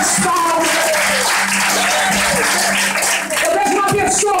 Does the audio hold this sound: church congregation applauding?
yes